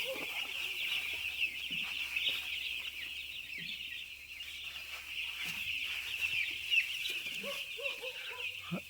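Four-day-old poultry chicks chirp in a dense, continuous high-pitched chorus inside a partitioned farm shed, a steady flock noise with no pauses and faint low knocks underneath.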